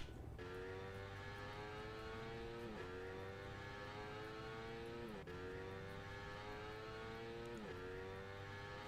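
A motorbike engine in Minecraft, a steady buzzing drone that repeatedly rises in pitch then drops back every few seconds like gear shifts, quiet and continuous with no talk.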